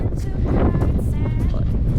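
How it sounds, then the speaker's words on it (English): Strong wind with 40-knot gusts on the Eyre Peninsula coast, South Australia, roars and buffets the microphone in heavy, continuous gusts, a low rumbling rush filling the whole stretch. "it is howling today. 40-knot gusts coming through"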